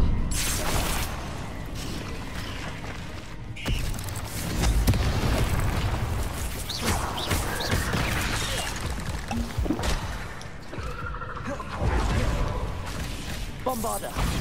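Bombarda explosion spell in the Hogwarts Legacy video game, heavy booms and crashes within a loud, dense wash of combat effects, with someone talking over it.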